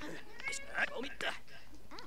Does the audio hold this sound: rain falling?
no